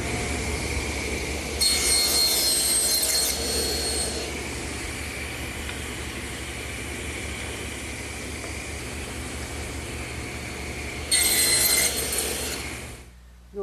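A table saw runs with a steady hum as it cuts wood clamped upright in a tenoning jig, with two louder cutting passes rising over the motor near the start and toward the end.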